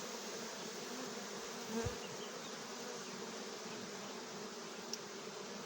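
Dense, steady buzzing of many bees around a hive, continuous and fairly close, with a brief low thump partway through.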